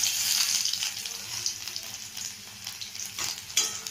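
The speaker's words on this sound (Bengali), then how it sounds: "শুকনো লঙ্কা দিয়ে দিলাম। এবার একটুখানি আমি নেড়ে নেব।" Dried red chillies fried and stirred in a pan, a loud, continuous close sizzle with scraping stirs and a few louder clatters near the end, no one speaking.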